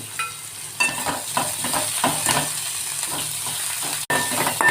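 Onions with salt sizzle and fry steadily in a pan, with repeated scraping stirs of a spatula throughout and a brief dropout near the end.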